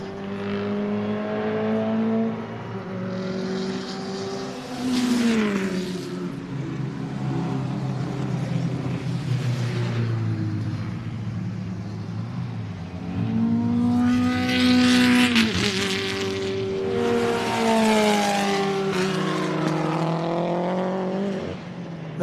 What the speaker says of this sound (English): That was the small displacement engine in the Brabham